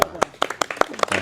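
Several sharp, loud hand claps ring out in an even rhythm, about five per second, close by and prominent, during an old Punjabi street magic show, with voices audible around them.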